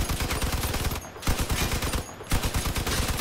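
Rapid, continuous automatic gunfire from vehicle weapons in the car combat game Crossout, loud and close, with two brief dips in the fusillade.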